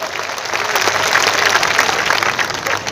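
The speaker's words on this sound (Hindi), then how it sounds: "ताली बजनी चाहिए।" Steady, dense applause from a large audience at a comedy program for the Nanded Waghala Municipal Corporation's silver jubilee, sustained clapping that swells slightly midway and eases toward the end.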